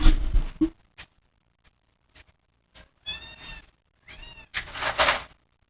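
A cat meows several times with short pauses between, the last call louder and drawn out, with a few faint clicks in between.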